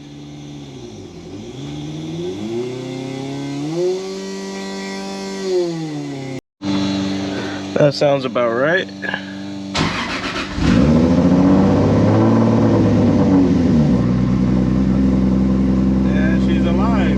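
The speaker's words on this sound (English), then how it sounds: "So I'm gonna go ahead and turn the car on" A Toyota Supra's engine turns over and idles, rising into a loud steady rumble with revving, while a voice briefly speaks nearby.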